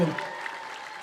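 An audience at a religious talk during Lent breaks into brief, steady clapping from many hands, dense and fairly close, fading slightly over about a second.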